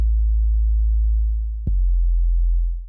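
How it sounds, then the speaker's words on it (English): A low 808 bass line sample in FL Studio, a deep sustained sine-like bass tone lasting nearly three seconds, with one brief click or note change midway, heard alone. "Currently, this is how the crappy 808 bass line sounds like."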